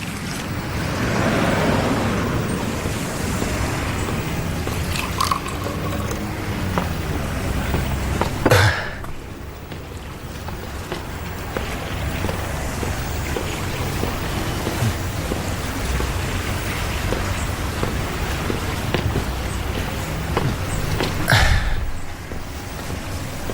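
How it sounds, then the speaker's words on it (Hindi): Steady, heavy rain pours down in a dramatic TV scene, a dense hiss throughout with a low rumble underneath, loud and continuous, with no talking. "ओह, फिर से बारिश शुरू हो गई।"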